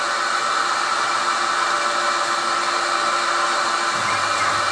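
Milling machine spindle runs steadily, a loud even whirring hiss that holds throughout with a slight change in tone near the end.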